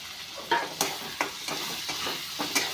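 Onion and cherry tomatoes sautéing in a pan for a soybean curry, with a steady sizzle broken by several sharp spatula scrapes and stirs, close and moderately loud, no talking.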